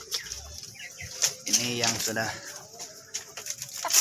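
Cemani chickens cluck and stir nearby on a poultry farm, short bursts of clucking and rustling wing sounds mixed under someone speaking.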